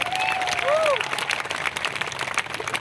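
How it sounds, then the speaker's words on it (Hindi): An audience at a business motivational event bursts into loud applause, a dense crowd clapping with scattered cheers and a few whistles riding over it. "एक जोरदार तालियां आपकी खुद के लिए होनी चाहिए।"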